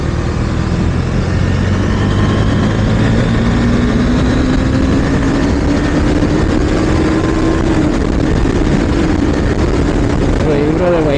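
A KTM Duke 390 motorcycle is ridden near the Kondapochamma Sagar Reservoir, its engine note a loud, steady drone with slowly rising pitch, buried under heavy wind rush throughout.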